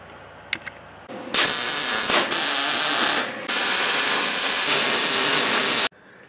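Steady loud hissing, crackling bursts from welding a steel snowmobile trailer clamshell removal cart, a few clicks first, then long continuous arcs with a short break, stopping abruptly near the end.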